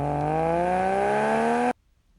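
A Subaru H6 flat-six car engine revving up in one smooth rising pull, loud and close, with a steady climbing drone that cuts off abruptly, leaving silence.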